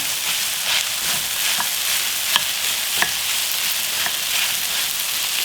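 Egg fried rice stir-fries in a pan with a loud, unbroken sizzling hiss, punctuated by a few faint, scattered clicks of a spatula against the pan.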